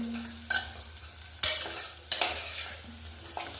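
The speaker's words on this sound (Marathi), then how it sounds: "हे व्यवस्थित परतून घ्यायचं." Pumpkin pieces coated in spices sizzle in a pan under a soft continuous hiss, with a few sharp scraping stirs spaced about a second apart.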